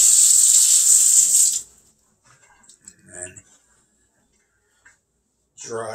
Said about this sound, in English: Get this here rinsed off.